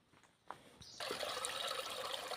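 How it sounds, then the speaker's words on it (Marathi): Water from an irrigation canal trickling near a fort, a soft steady flowing rush that swells in after a brief quiet start, heard alone. "पाटाचं पाणी येते"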